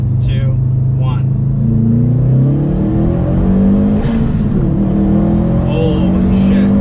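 A pro-tuned 2020 Subaru WRX STI boosted to about 8 psi pulls hard in second gear from around 3,000 RPM, its engine note climbing loud and close as a voice talks over it inside the cabin.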